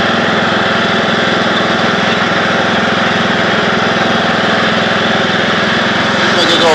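A Craftsman YT3000 lawn tractor engine runs loud and close, droning steadily throughout with a slight rise at the very end.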